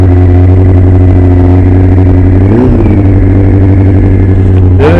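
A Yamaha R6 motorcycle engine idles loud and steady right after its carburettors were stripped and refitted, with a brief blip of revs midway and another near the end.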